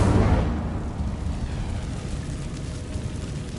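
Incendio fire spell cast in the video game Hogwarts Legacy, a loud whooshing burst of flame that hits sharply and then trails off into a roaring, crackling decay.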